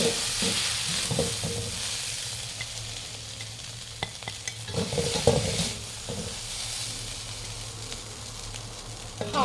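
Minced pork is stir-fried in a pan for fried rice, with a steady sizzle broken by repeated scrapes and clacks of a spatula against the pan, close and continuous.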